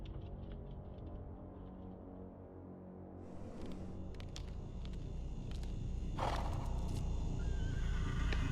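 A video game horse neighs and whinnies over a low rumbling background, followed by clip-clopping hooves, with the whinny rising loudly midway as the scene swells.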